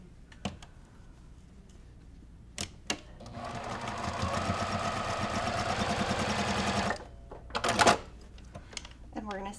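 A sewing machine stitches pinned orange and white pieces of a pumpkin quilt block, running steadily for about three seconds mid-clip between brief handling clicks and knocks.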